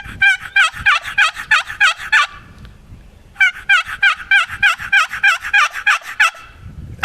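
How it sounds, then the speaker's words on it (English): A wooden box call worked as a basic turkey hen yelp, two loud, close runs of rhythmic raspy yelps separated by a short pause. "just your basic yelp to call a turkey"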